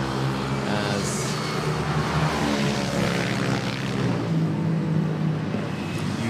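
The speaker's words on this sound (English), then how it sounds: "you just saw the departure of that A350K" An Airbus A350 departs Manila Airport with a loud, continuous engine roar that holds steady throughout.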